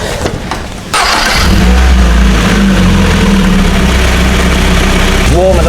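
An MG ZS car engine, freshly topped up with coolant and oil after a head gasket repair, cranks and catches about one second in, then settles into a loud, steady idle close by.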